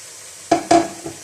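Vegetables and macaroni stirred in a pan, heard as two quick scraping strokes with a metallic ring, then a fainter third scrape, all close and brief with no talking.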